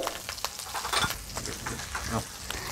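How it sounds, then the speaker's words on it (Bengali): Ginger paste with bay leaf, cinnamon, cloves and a little turmeric fries in hot oil, giving a close, steady crackling sizzle with occasional sharper pops and stirring noises. "আদাটা ভাজা ভাজা হয়ে গেছে,"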